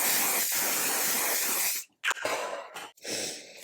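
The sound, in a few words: makeup setting spray being sprayed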